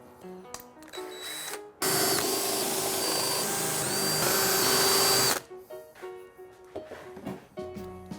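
A power drill running a countersink bit into wood for a rolling shop cabinet with drawers, a loud steady whine of about three and a half seconds, close by and alone, between quieter handling clatter.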